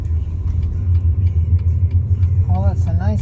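Steady low drone of a midnight blue BMW heard from inside the cabin while driving, a constant road and engine hum with brief higher sounds and a voice near the end.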